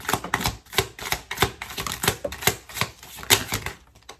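Rapid crisp flicks and slaps of tarot cards being shuffled, a steady run of sharp papery snaps close by with no talking.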